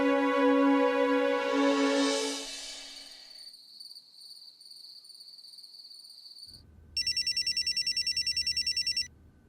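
An electronic telephone ring trills in short repeated bursts after quiet, following earlier chirping tones and a fading musical swell; no voices are heard.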